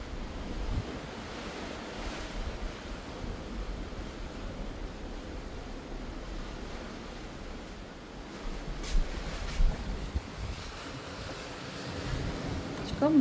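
Ocean waves at sea heard from a cruise ship off the US East Coast, a steady broad wash of surf with wind buffeting the microphone, louder gusts and splashes toward the end.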